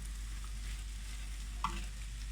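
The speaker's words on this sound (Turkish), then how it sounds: "Şimdi mantarları kavuralım." Mushrooms sautéing in a pan for a home-cooked iftar meal give a steady, quiet sizzle throughout, broken once by a brief clink of a utensil against the pan.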